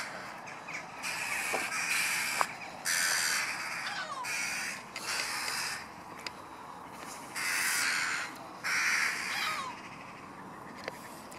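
A crow-like bird calls from inside an abandoned nuclear shelter, giving repeated harsh caws in bursts of about a second over steady background hiss, with no one talking.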